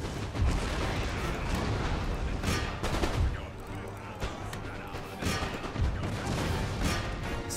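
Musket volleys and artillery fire from an Empire Total War battle in the defence of Norway crack and boom in irregular bursts, with heavy low thuds and sharp reports layered over a continuous rumbling battlefield din.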